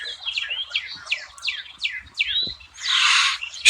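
Birds chirp in a quick run of bright, sweeping tweets, one after another, close by, followed by a harsher buzzy call near the end.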